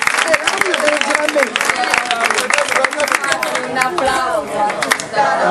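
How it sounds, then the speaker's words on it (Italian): Crowd applause and clapping at a neighbourhood festival in contrada Luzza, San Giorgio Ionico, rattling on steadily for several seconds amid lively chatter and voices. "cu faccio un applauso a tutta la luce"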